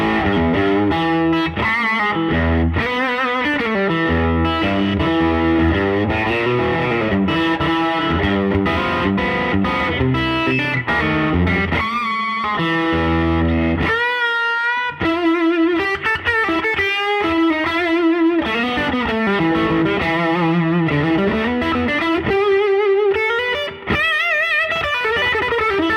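Electric guitar on a slightly overdriven lead channel, pushed through an OTS pedal, plays a fluid, sustained lead line with bends and fast runs, loud and close with no talking.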